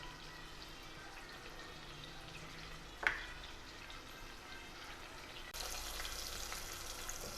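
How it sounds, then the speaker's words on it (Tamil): Onions frying in a pan for a thikkadi mutton gravy, a faint steady sizzle with a single sharp clink midway and the sizzling growing slightly louder near the end. "வெங்காயம் கொஞ்சம் வதங்கிடுச்சு."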